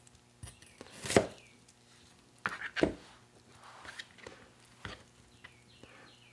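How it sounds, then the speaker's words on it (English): A knife cuts an onion into wedges on a board in a home kitchen, a few sharp chopping thuds spaced irregularly, close and fairly clear with quiet handling noise between cuts. "And I'll just cut the onion into these wedges."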